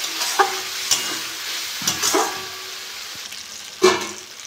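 Spice paste and tomato sizzle in oil for a lote fish curry, with a soft frying hiss broken by a few sharp stirring scrapes from a spoon in the pan.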